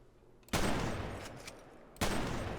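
Two loud, close gunshot blasts from a sawed-off shotgun in the SA-MP video game, each followed by a long, sustained crackling roar, with the second shot arriving about one and a half seconds after the first.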